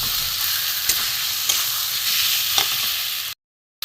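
A papaya chicken masala with potato sautés in a pan with a constant loud sizzle, broken by a few sharp scrapes of a stirring spoon, before cutting to brief silence at the end.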